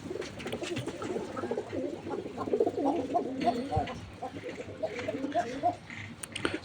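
Pet pigeons with an eye problem coo softly in repeated low calls close by, while a voice talks over them.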